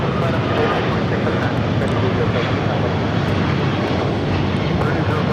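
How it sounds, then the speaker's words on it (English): An American Airlines Boeing 777-200ER roars on takeoff at LAX, a loud, dense, continuous broadband engine rumble that stays steady throughout. "taking off to Dallas Fort Worth on a 777-200ER"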